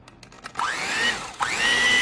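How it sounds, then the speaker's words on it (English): An electric hand mixer blends cream cheese for a holiday treat, starting with a few quiet knocks and then spinning up twice into a close, steady motor whine. "We're going to take our hand mixer"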